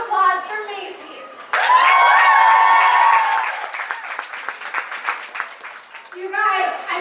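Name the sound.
audience applause for sponsor Macy's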